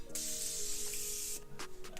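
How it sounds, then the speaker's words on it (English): A steady hissing spray of Morphe setting spray onto a face lasts a little over a second, followed by a few short soft puffs and faint handling noises. "I'm gonna spray my face with some Morphe setting spray right now"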